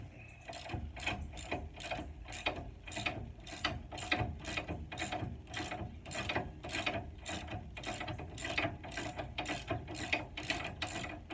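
A ratchet wrench works bolts loose from the brake dust shield of a 1968 Camaro during a disc brake conversion, giving a close, evenly spaced series of sharp clicking bursts throughout.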